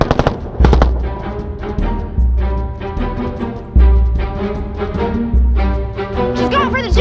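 A big gun fires in an action movie, its heavy booming shots and bursts standing out loud over a tense music score and other effects, with no talk heard.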